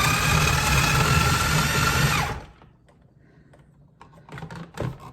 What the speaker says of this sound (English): hopefully I'm not overworking this food processor